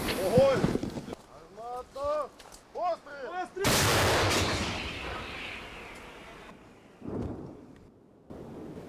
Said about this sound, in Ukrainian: розрахунок цієї Д-30 мерщій і без роздумів наводить свою гармату на ціль